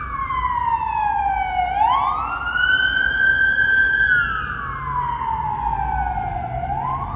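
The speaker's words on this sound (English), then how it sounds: "that ambulance was very loud." An ambulance siren wails loudly on a street in Chișinău, Moldova, its pitch sweeping up and down in long, continuous cycles as it passes close by; no talking.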